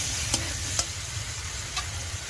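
Jackfruit sizzles steadily while being sautéed in a pan, with a constant frying hiss and a few soft scrapes of the spoon stirring it.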